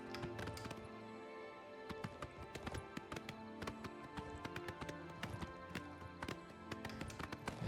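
A horse gallops in the video game Oblivion Remastered, its hooves drumming a fast, steady clip-clop close by over sustained tonal background music.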